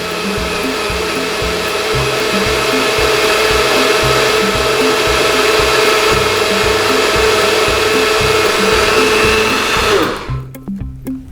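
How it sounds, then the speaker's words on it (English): A NutriBullet blender whirs loudly and steadily while blending a breakfast smoothie, its motor droning close and unbroken for about ten seconds before spinning down abruptly. "once you put it on your blender, it takes about 30 seconds. So everything blends together."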